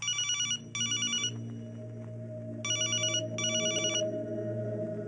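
A telephone rings unanswered during a movie fight scene, its electronic bell sounding in repeated bursts with short gaps over a low steady background hum.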